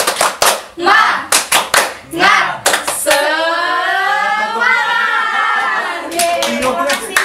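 A group claps out the rhythmic "tepuk semangat" cheer in a class session, sharp hand claps in bursts over the first three seconds, then a sustained shouted or sung voice, with a few more claps near the end.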